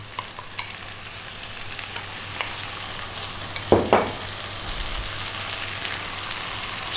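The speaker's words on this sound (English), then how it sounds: "we're gonna drop in 3 cups of fresh tomatoes" Fresh tomatoes and garlic fry in a pan as a steady, moderate sizzle runs throughout, with a brief louder burst of crackle partway through as more food hits the hot oil.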